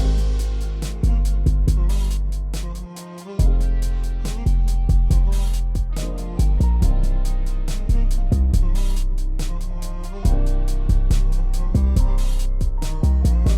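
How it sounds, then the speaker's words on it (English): A full beat with piano chords, a sung vocal line, guitar, deep bass and punchy drums, playing steadily at a loud, even level with no talking. "we got pianos, vocal, guitar, bass, and drums"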